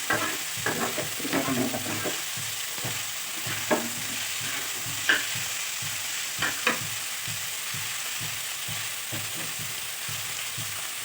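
Ground spice paste fries in oil for an anchovy (netholi) roast, a soft continuous sizzle under intermittent stirring scrapes and light utensil taps, fairly quiet and close, with no voices.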